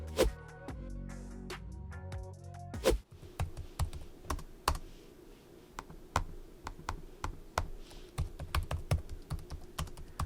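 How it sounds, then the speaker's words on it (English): Rapid keystrokes clatter on a computer keyboard, close and crisp, recorded through a BOYA BY-MM1 microphone with a deadcat on a Canon SL2, in an uneven typing rhythm after a brief opening of other faint tones. "we're going to type on the keyboard and see how that sounds"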